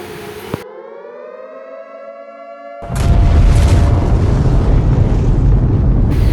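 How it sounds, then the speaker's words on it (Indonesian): A rising, wailing countdown siren from a tactical nuke in a Minecraft PE military addon cuts off into a loud, sustained roaring explosion rumble that fills the remaining seconds, with no talking. "Yang pertama sih ada tactical nuke ya guys, atau nuklir ya. Kita coba ledakan di sini."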